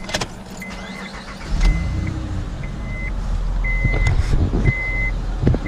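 A Honda Pilot engine with a noisy alternator pulley belt starts partway through and runs close by with a steady rumble, while a high electronic chime beeps intermittently over it.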